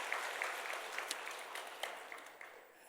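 A church congregation claps together for newly appointed choir members, a dense wash of applause that holds steady, then thins and fades near the end.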